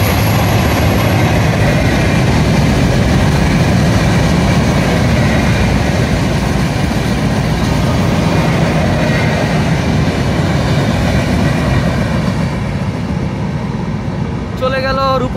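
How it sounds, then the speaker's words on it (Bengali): A Rupshi Bangla Express train runs along the Padma Bridge rail line, giving a loud, steady rumble and roar that lasts throughout, with a brief squeal near the end. "পদ্মা সেতু রেলপথ দিয়ে এগিয়ে যাচ্ছে রূপসী বাংলা এক্সপ্রেস"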